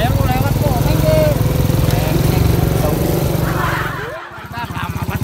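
A motorcycle engine runs close by with a steady buzzing drone, dropping off briefly near the end before a rougher idle resumes, while people talk loudly over it.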